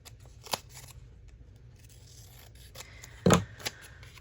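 Scissors trim the white border off a sheet of paper. A few soft snips and rustles sound close by in a quiet room, with one sharper cut near the end.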